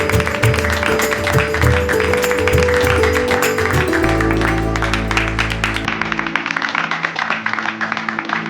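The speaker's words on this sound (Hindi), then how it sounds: "जोरदार तालियों से उनका स्वागत" An audience claps loudly to welcome dance pairs onto a Naagin serial stage, the applause mixed with a bright music track that keeps playing throughout.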